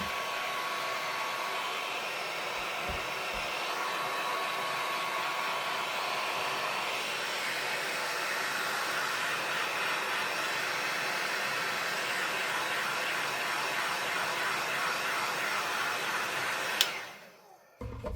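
A hair dryer blows steadily and loudly for about seventeen seconds while drying a cardmaking masterboard project, then clicks off near the end, with no talk.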